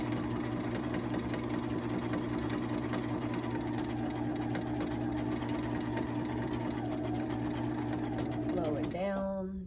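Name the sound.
sewing machine stitching an apron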